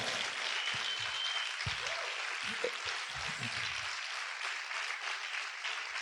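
Church congregation applause fills the space with a steady, dense clatter of many hands clapping, sustained throughout with a few low thumps beneath.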